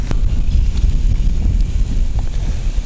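Gusty wind buffets the microphone outdoors by a lake, a steady low rumble that fills the whole stretch at close range, with no voice heard.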